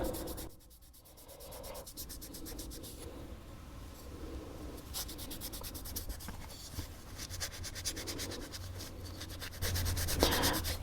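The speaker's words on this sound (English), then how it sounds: "So I'm just gonna buff it out now." A wax finish is buffed out by hand on a handmade piece, giving continuous scratchy rubbing strokes with a soft, steady texture at close range.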